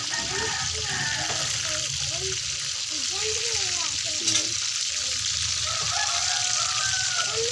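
Food frying in a pan, a loud continuous sizzle and bubbling that holds steady throughout, with a voice talking faintly underneath.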